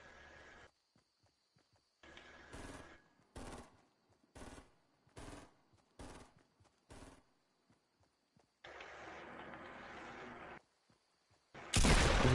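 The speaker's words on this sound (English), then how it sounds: "Did you just shoot your shotgun?" Gunfire in an online shooter video game, with about six sharp, evenly spaced loud blasts in a row followed by a louder burst, heard alone without talk.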